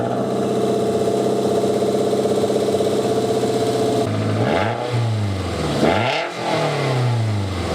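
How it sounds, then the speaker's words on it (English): A loud Toyota MR2 Spyder engine, run with no exhaust fitted, idles roughly and unmuffled, then revs up and down in harsh, throaty bursts. "I'm totally going to start this up with no exhaust to see what it sounds like"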